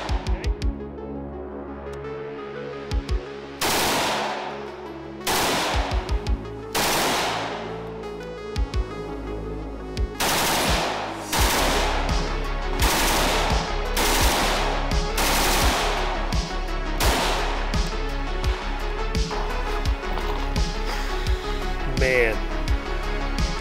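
A 5.56 AK rifle fires outdoors, first in single shots and short bursts, then in longer sustained volleys of loud, sharp reports that carry on almost without pause toward the end.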